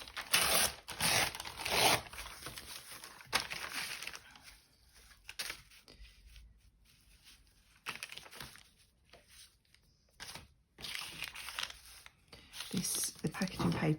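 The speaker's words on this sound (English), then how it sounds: "rip some of these and see how we go." Packaging paper being ripped by hand, several loud bursts of tearing and crinkling separated by quieter pauses, close up, with people talking around it.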